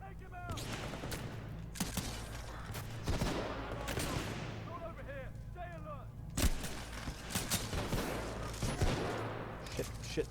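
Gunfire in the video game Titanfall 2, with bursts of shots and rumbling explosions fighting robots at moderate level, broken up by a player talking.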